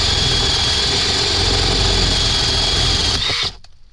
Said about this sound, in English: I had to go in and get a 30mm wood bit, because I gotta drill through there